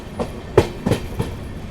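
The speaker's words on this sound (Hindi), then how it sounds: "तो अपना भी अराइवल हो चुका है मथुरा जंक्शन रेलवे स्टेशन पे" Sampark Kranti Express rolling into Mathura Junction railway station, with a few rhythmic clickety-clack wheel beats over rail joints, fairly close and alone with no voices.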